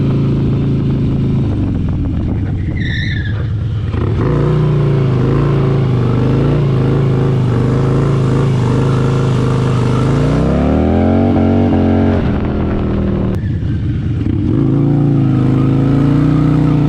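A motorcycle engine revs hard and close while doing donuts, holding a loud sustained drone that climbs and falls in pitch, pushing up toward the limiter in several surges.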